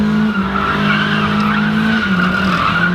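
Tires on a Nissan Silvia S15 squeal hard and steadily while it drifts, a loud, continuous screech over engine drone that wavers slightly in pitch for the full stretch.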